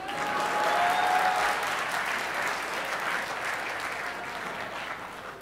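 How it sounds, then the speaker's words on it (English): Audience applause at a talk on the world's economic future, a full round of clapping that swells early and then slowly tapers off, dense and fairly close. "So by a round of applause,"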